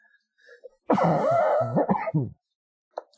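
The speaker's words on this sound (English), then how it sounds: "Just trying to get over this cough I got." A single rough, throaty cough with a groaning edge, close and fairly loud, between brief silences.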